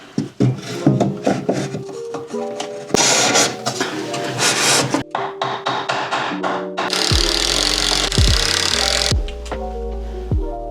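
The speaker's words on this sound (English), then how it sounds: "Every time I put the drill up near the ceiling, it vibrates the house." A power drill whirs in bursts with stops between while driving into a ceiling, then a louder, harsher grinding stretch, loud and close with nobody speaking.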